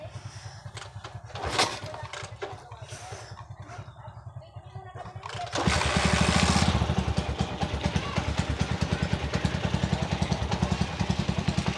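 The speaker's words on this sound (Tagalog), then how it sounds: "So papandarin ko muna yung aking motor na walang battery at saka hindi pa nakabit ito." A motorcycle with no battery fitted and no capacitor installed is kicked into life, a few clattering strokes giving way to a loud, steady engine putter that keeps running.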